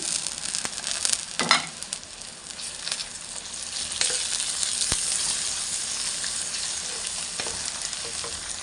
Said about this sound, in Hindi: प्याज को अच्छी तरह फ्राई करेंगे, तो फिर इसमें दूसरे मसाले डालेंगे अदरक लहसुन और हरी मिर्च कुटी हुई